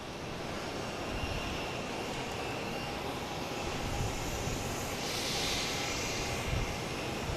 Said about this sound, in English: We have the Lufthansa finally coming down here.